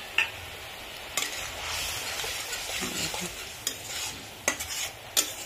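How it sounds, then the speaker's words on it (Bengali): Spice paste for a fish curry without onion or garlic, frying in oil and stirred, a soft steady sizzle broken by several sharp spatula scrapes against the pan. "তো মশলাটা ভাজা হয়ে যাবে।"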